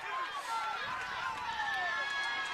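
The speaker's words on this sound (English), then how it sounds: "Falcon crowd here starting to make a little more noise, recognizing this is a big spot here." A home crowd at a Northern Falcons high school football game against Lower Dauphin, a steady, distant roar of voices building in the stands, with no one speaking up close.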